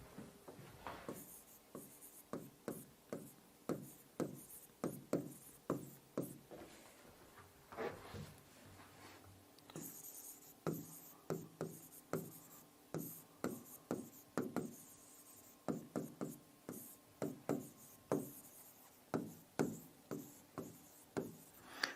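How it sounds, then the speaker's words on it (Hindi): Prime numbers are written out by hand for a maths lesson in a quick, rhythmic series of faint scratchy strokes and taps, with a brief pause midway, close by and with no talking. "अभाज्य संख्याएं लिख देंगे"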